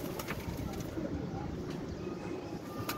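A Sialkoti pigeon coos softly against a busy background of chirping birds and low ambient rumble, the soft calls repeating amid sharp, brief bird chirps throughout.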